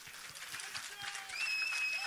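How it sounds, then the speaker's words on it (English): Audience clapping at a Bollywood film trailer launch event, a moderate, steady patter with voices over it and a rise in loudness partway through. "One big round of applause for Anshul"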